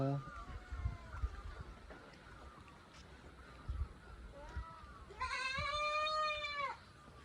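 A goat lets out one long, wavering bleat near the end, following quieter outdoor ambience with faint voices and a brief earlier call.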